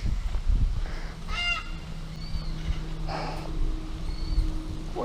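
Several fowl or geese call in short honking bursts from mid distance on an outdoor walk near Yorkeys Knob, set against a steady low rumble of ambient noise.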